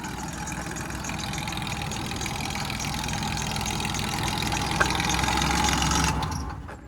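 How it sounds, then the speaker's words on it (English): Chevrolet ZR2 truck won at a sight-unseen auction idling with an ongoing engine noise, a steady mid-pitched running drone with a faint rattle throughout before it cuts off near the end. "it's definitely got some engine noise going on"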